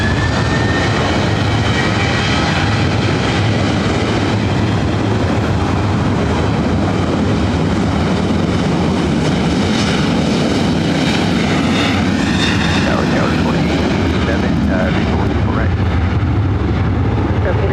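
An airliner takes off at LAX airport, a loud, steady roar of engines that holds broadband for the whole stretch, rising and shifting slightly near the end as the aircraft passes close by.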